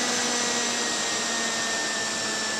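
A power tool runs steadily while cutting the cheek of a wooden tenon for an Arts & Crafts bedside table, a loud, constant high-pitched whine and roar that holds level throughout with no talking.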